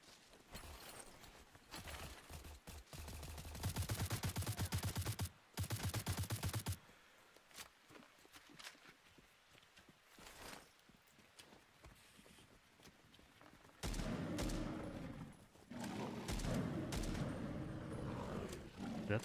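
Enemy gunfire in a video game, rapid bursts of shots in loud dense stretches near the start and again toward the end, with quieter gaps between.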